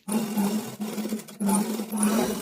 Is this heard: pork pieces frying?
no